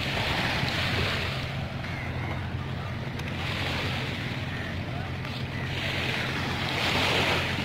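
Sea waves break steadily on the shore at Madh Island in Mumbai, a continuous loud wash with wind buffeting the microphone and surges swelling at the start and end.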